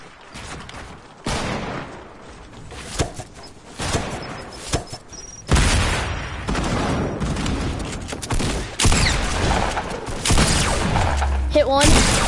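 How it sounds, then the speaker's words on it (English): Video game gunfire arriving in bursts of sharp shots and volleys, some loud and close, others more distant, interleaved with quieter gaps and a voice talking over parts of it. "we're actually getting shot"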